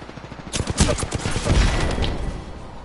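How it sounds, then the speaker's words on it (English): Rapid gunfire in the Apex Legends video game, a dense burst of overlapping shots at close range that swells and then tapers over a few seconds, with no talking. "Opening fire."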